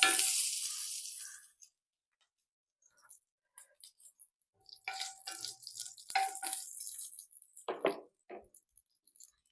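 Mustard seeds crackling and popping in a little hot oil in a pan, starting with a brief loud burst and then scattered, sharp small pops that come and go, close and quiet, with no speech.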